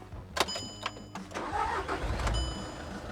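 A performance VW Caddy race van cranks over and fires just after a new injector goes in, with a short starter whine, a loud catch and a rough, lumpy idle up close.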